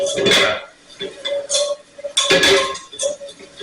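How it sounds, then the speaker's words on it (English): A spoon clinks and scrapes against a pot while milk is stirred into a thickening cream sauce for chicken vol-au-vent, in irregular clattering bursts close by. "Mix that up. Till it thickens."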